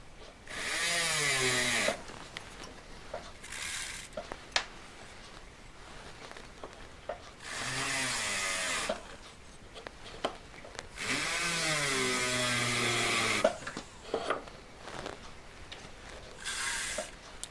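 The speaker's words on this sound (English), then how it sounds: "This is a polishing brush." A rotary polishing brush works a metal Montana 94 cap ring, whining loudly in three long bursts with quieter clicks, taps and handling between them.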